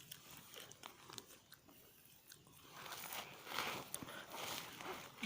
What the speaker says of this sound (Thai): มากินมะเขือ